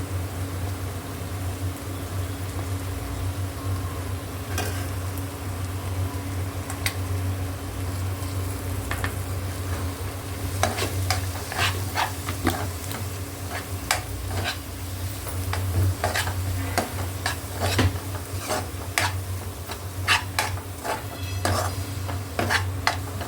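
A spoon stirs masala with onion, tomato, turmeric and Malvani chilli powder in a pan, Malvani-style home cooking, giving repeated close scraping clicks over a steady low hum, busier in the second half.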